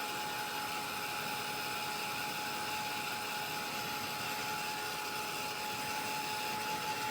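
A craft heat tool drying distress ink on a journal card blows a steady, even whooshing hum with a faint whine, constant and unbroken throughout at moderate volume.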